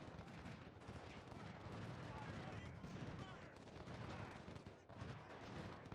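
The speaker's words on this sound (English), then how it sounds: "Yeah, this is infantry fire." Infantry musket volleys in the Civil War strategy game Ultimate General: Civil War, heard as faint, distant crackling fire that rolls on continuously without pause.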